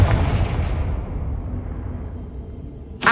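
A Confringo fire spell explodes in the Hogwarts Legacy video game, a loud booming blast that rumbles and fades over about three seconds before a second sharp burst hits at the very end.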